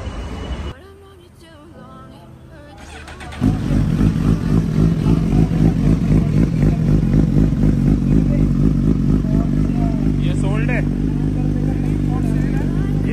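A superbike engine starts and settles into a loud, steady idle with a low rumble, close by, after a brief quieter stretch at the start.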